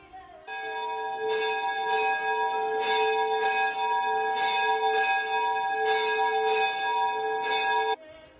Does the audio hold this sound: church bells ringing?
yes